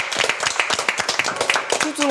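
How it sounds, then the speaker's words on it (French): A small family group claps for themselves in a home after finishing a series of challenges, with quick uneven hand claps close by and voices talking over them throughout. "applaudissez-vous parce que vous avez été incroyable"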